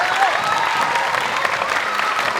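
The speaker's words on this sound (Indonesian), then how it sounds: "Tepuk tangan buat Mandua Kuningan." An audience at a Maulid Nabi religious gathering applauds, producing steady, fairly loud massed clapping that runs through the whole clip, with a faint crowd murmur beneath it.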